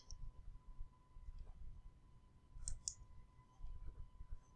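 Computer mouse clicks, two faint quick clicks close together over a low steady hum and soft background rumble, with no talk.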